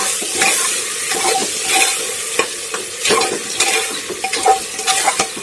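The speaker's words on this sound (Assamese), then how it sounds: "দৈখিনি ধুনীয়াকৈ মিক্স কৰি লওঁ" Yogurt stirred into chicken biryani masala in a pot, with close, loud sizzling and repeated scraping, knocking strokes of the spoon against the vessel in an uneven rhythm, no talk.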